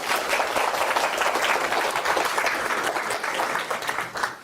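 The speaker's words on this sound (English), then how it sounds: "Let us welcome Khenpo's arrival with warm applause." Warm applause from a lecture audience welcoming Khenpo Sodargye before a Buddhist talk, a dense, even wash of many hands clapping at once, fairly loud and sustained throughout with no voices over it.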